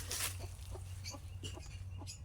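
Chickens cluck near newly hatched chicks, with soft repeated clucks and short chirps close by over a steady low background hum, with no talk.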